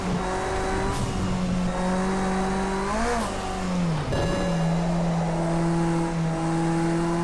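Renault race car in a racing video game, engine droning loud and steady, pitch rising and falling through gear changes, with a sharp dip and recovery around midway, alone without talk.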